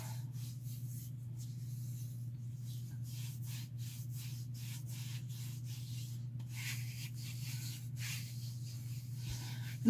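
Exfoliating glycolic body scrub rubbed on skin, soft rhythmic scratchy strokes repeating quietly over a low steady hum, no talk.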